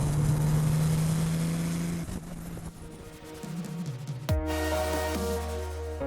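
A Porsche 964 Turbo, modified, drives with a steady engine drone that shifts tone midway, then a sharp change around four seconds brings a louder, brighter engine note with strong harmonics, heard from inside or close by.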